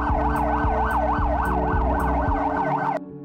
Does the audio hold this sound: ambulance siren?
yes